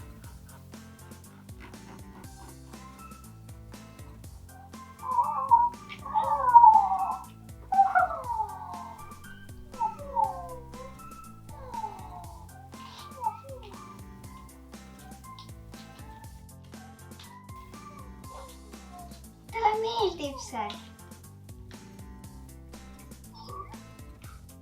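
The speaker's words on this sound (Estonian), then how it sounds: "Ma kuulen mäugumist. See on vist kass." An interactive Scruff-a-Luvs toy cat lets out a series of electronic meows in a cluster, then one more louder meow after a pause, with a brief spoken phrase nearby.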